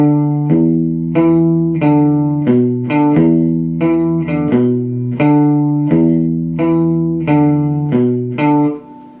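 Electric guitar plays a riff through fuzz distortion, repeated chugging phrases of thick, sustained notes in a steady rhythm, loud and close, ending with a fade.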